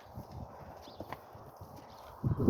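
Horses walking on a farm, with hooves clip-clopping in a quick, irregular rhythm close by and a louder thump near the end, with no talking.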